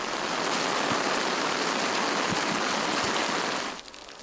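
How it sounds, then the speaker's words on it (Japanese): Steady rain falls across the Noto area of Ishikawa Prefecture as a weather front passes, a dense, even hiss that holds loud and constant before dropping away near the end, with no voices. "今日も県内は能登を中心に雨が降りました。"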